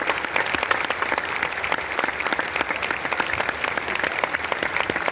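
Audience applause for children at a ceremony at Bharat Mandapam, a dense, steady clapping that holds evenly at full strength for the whole stretch, with no voices over it.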